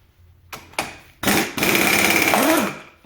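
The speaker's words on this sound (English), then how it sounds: "We reverse our impact wrench to make it go forward." A reversed impact wrench spinning off the flywheel of a Mercury Black Max outboard engine, a couple of short taps followed by a loud sustained rattling whir that cuts off near the end.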